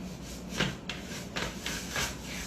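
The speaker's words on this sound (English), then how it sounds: "Rubbing." An object is rubbed by hand to build up static electric charge in a physics demonstration. Several quick, dry rubbing strokes come in an uneven rhythm, close and moderately loud, with no talking.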